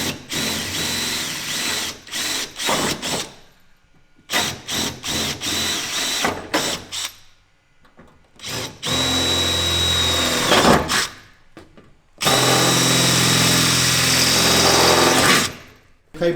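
Power drill boring holes into a car bumper on a GT86 project, several short high-pitched whirring bursts with pauses between, then a longer continuous run near the end, close and loud.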